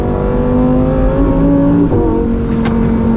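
A 2023 Lamborghini Huracan Tecnica's engine pulls hard on a race track, a loud, sustained mechanical drone with clear harmonic tones that dip briefly under trail braking and then pick back up as the throttle is fed in.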